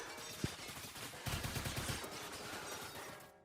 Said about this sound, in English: Oh no, someone's shooting at me.